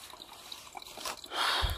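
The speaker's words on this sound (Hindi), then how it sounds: "यहाँ पे ये पानी इतना सा निकल रहा है" Spring water trickles out from under a tree-covered hillside, a faint, close dribbling with small drips, swelling into a louder splashing flow near the end.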